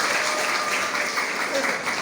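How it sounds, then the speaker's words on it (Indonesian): An audience at a legislative seminar on a university campus claps, a dense, steady roar of many hands filling the hall, with voices faintly audible underneath. "Tepuk tangan."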